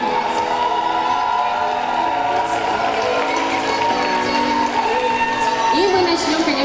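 Crowd at an awards ceremony for festival volunteers applauding and cheering, a steady wash of clapping with whoops and shouts, loud and close, while voices and music sound underneath.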